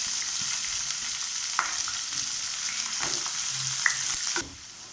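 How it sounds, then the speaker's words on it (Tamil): Onions, green chillies and ginger fry in a pan for Tamil-style poha upma, a steady close sizzle with a few sharp spatula scrapes and stirs, the sizzling easing off near the end. "வெங்காயம் நல்லா வதங்கட்டும்."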